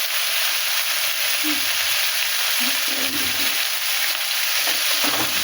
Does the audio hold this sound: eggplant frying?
yes